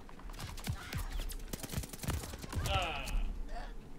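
Rapid bursts of gunfire from Call of Duty: Vanguard, crackling shots in quick succession that fill the whole short stretch, with a faint whistling effect partway through and talk underneath.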